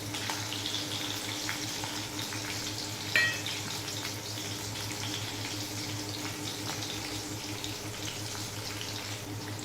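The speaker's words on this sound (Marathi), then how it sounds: "हे सर्व व्यवस्थित परतून घ्यायचे आहे" Garlic cloves sautéing in a pan give a steady, continuous sizzle and crackle throughout, with one brief clink partway through and no talking.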